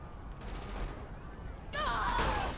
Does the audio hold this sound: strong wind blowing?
no